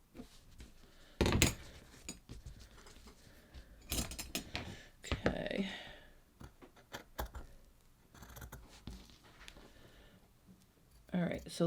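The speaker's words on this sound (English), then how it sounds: "now let's cut this side piece" Scissors cut a side piece of a cloned sports bra pattern in scattered crisp snips and rustles of fabric, close but fairly quiet, with some speech around them.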